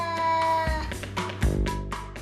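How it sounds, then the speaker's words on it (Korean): Cat growling a menacing warning at a stranger, a loud close drawn-out yowling growl that shifts pitch in waves. "낯선 사람이 오면 무시무시한 소리로 경고하는 지웅이"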